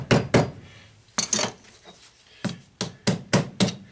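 Metal hammer strikes on a socket drive brass out of copper scrap, giving sharp, ringing, close blows: a pair, another pair, then a run of five quicker hits.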